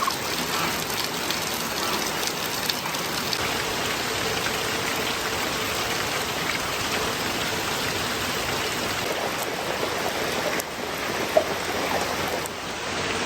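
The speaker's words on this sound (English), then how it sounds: "Well, it's raining." Steady rain falls outdoors in a continuous broadband patter, with no break across the stretch and no voices.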